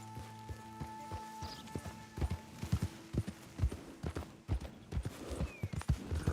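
Horse hooves clip-clop at a steady walking rhythm in the video game Red Dead Redemption 2 as a rider loads a freshly shot deer onto the horse, with faint ambient tones and occasional soft game sounds behind the hoofbeats.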